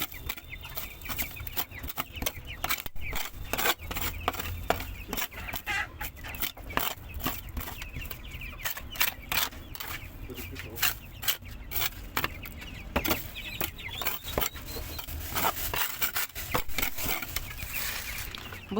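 White broiler chickens about twenty days old cluck and rustle continuously in their straw-bedded coop, a busy close-up chorus of overlapping clucks and scratching with some wing flapping, and no talk over it.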